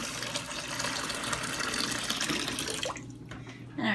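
Water gushes steadily from a tap to fill drinking water for farm animals, a loud continuous splashing that stops near the end.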